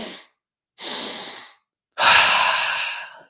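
Deep breaths taken during a guided breathwork exercise for mountain athletes: three loud, close breathy bursts separated by short silences, the last one longest, a long drawn sigh-like exhale.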